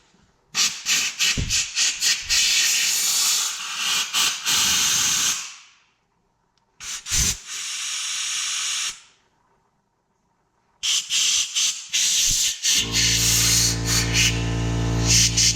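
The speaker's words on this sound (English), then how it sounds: "now I pull it out and just blow it off with compressed air" Compressed air blasting off an engine part from an Enticer snowmobile, loud hissing bursts in several long pulses with short pauses and silent gaps between them.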